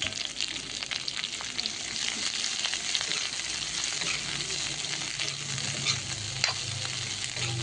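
Papaya flowers fry in hot oil in a small wok, giving a constant close hiss with fine crackles and occasional sharper pops, steady in loudness throughout and with no one speaking.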